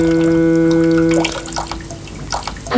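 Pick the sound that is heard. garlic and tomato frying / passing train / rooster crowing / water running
water running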